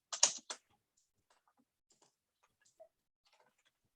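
A few quick, sharp keystrokes on a computer keyboard in a work meeting, close and crisp, followed by sparse faint taps and near silence.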